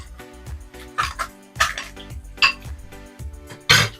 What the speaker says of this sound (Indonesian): Kita aduk biar semuanya tercampur.